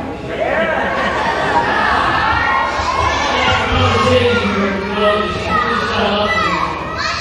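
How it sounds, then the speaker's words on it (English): The crowd at a professional wrestling match jeers at a wrestler, a dense, continuous wash of shouting and chatter from many voices filling the arena, loud and sustained throughout. "Crowd giving One Shot a little bit of the business."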